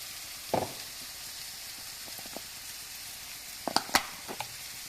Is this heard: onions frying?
yes